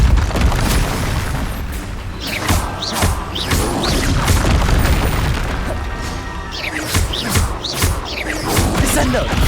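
Repeated booming spell impacts from a Depulso force spell in Hogwarts Legacy, with several heavy crashing hits and whooshing bursts over a loud, busy battle mix, and voices shouting spells among them.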